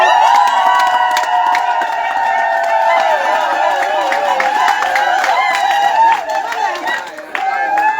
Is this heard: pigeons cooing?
no